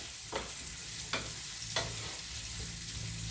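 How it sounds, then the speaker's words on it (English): Beef stew ingredients soften in olive oil in a single pan with a steady low sizzle and three faint stirring scrapes. "just going to give that a good stir in the olive oil, and I'm just going to soften that."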